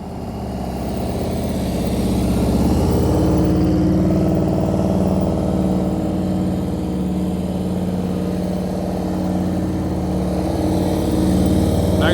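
Small engine running steadily with a low droning hum, slowly rising and holding at higher revs over about twelve seconds, no talk.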